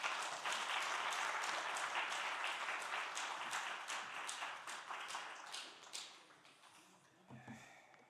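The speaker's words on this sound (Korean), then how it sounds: "우리 큰 박수로 환영하겠습니다" Church congregation at a Friday prayer meeting claps to welcome the pastor, dense applause that gradually thins and fades, ending in a few scattered claps.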